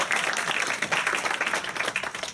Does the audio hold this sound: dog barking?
no